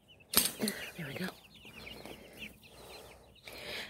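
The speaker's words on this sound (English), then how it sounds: "They're happy birds." Backyard chickens being fed carrots and apple peelings cluck and squawk nearby, with a sharp loud burst early and softer chattering calls continuing over faint background rustle.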